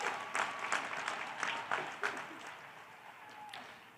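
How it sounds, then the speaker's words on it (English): An audience at a university address applauds in a steady wash of clapping with a few sharper claps standing out, moderately distant and fading slightly toward the end. "That's an applause line"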